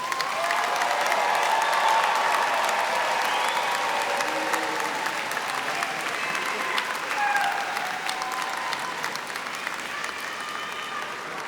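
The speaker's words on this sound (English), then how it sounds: "let's have one more round of applause for all our graduates" A large audience applauds graduates at a university commencement ceremony, with dense, sustained clapping that fills the hall and gradually thins out toward the end.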